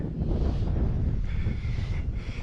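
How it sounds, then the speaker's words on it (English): Strong, steady wind buffets the microphone on an Appalachian mountain trail, a loud continuous roar with no pauses and no speech. "Wind is pretty intense."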